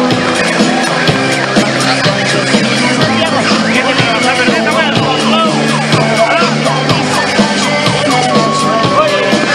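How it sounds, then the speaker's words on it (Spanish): Stunt show cars roll in at a crazy-cars event amid a loud, busy mix of revving engines, sirens and music-like tones, with an announcer's voice and crowd noise layered over the vehicles. "Los autos locos ya están aquí."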